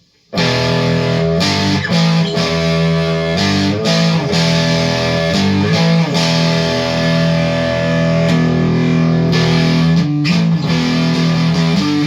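Distorted electric guitar with phase reversal switched on playing sustained chords and riffs, loud and continuous, with a thin, hollow tone.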